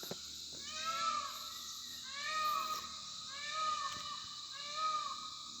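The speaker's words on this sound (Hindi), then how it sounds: "नेशनल बर्ड पीकॉक और आवाज़ मार रहा है अपने दोस्तों को" Peacocks, national bird, calling from a hillside at daybreak: four repeated loud, wailing two-part cries at roughly even intervals over a steady background hiss, with no talk.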